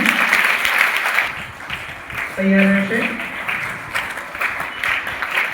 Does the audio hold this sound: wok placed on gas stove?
no